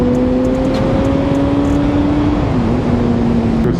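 A car's engine drones steadily while riding a winding mountain road, a constant close hum with a slight pitch dip partway through, heard through wind noise and without talk.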